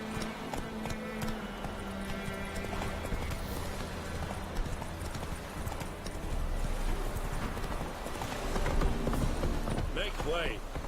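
Roach, the horse in The Witcher 3 video game, galloping with a steady rhythmic clip-clop of hooves that carries on throughout, joined by an occasional whinny, all under continuous game sound and talk.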